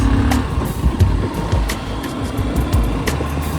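A vehicle approaching on a road through the Dnyanganga wildlife sanctuary forest, its steady engine rumble growing, with scattered sharp clicks and knocks over the drone.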